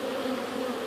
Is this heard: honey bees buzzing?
yes